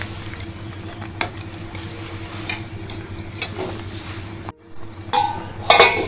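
A spoon scrapes and clinks through rice cooking in a pot, soft bubbling and sizzle running steadily beneath it, followed by a brief lull and a few louder metallic knocks near the end.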